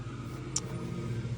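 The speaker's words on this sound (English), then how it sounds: "I had to scoot my truck forward a little bit because we're about to wash it." A Viper truck creeps forward with its engine running, a steady low rumble and hum close by, with a brief sharp click partway through and no talk.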